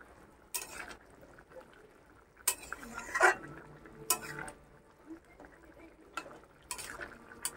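A spoon scrapes and clinks against a pot of young jackfruit curry being stirred, several sharp metallic knocks spaced irregularly over a quiet simmering background.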